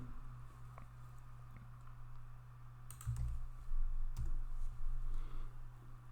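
A few scattered key clicks from a computer keyboard as a search phrase is typed, sparse and fairly faint over a steady low electrical hum.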